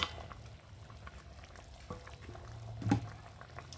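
Pieces of tilapia are added to a pan of simmering watery curry with potatoes and bori, making faint bubbling and a soft splash-and-sizzle swell near the end, with no one talking.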